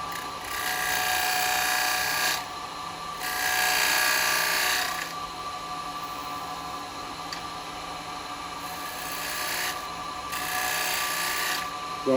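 Wet wood spinning on a lathe under a 3/8 spindle gouge, a steady hissing cut that swells louder in several bursts over a constant mechanical hum, with no talking.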